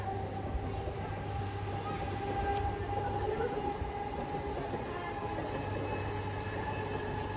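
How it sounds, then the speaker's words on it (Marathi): A train passes by, a steady rolling rumble with a low drone that holds evenly throughout, fairly close and loud, with a faint hint of voices in the background. "ट्रेन चालली"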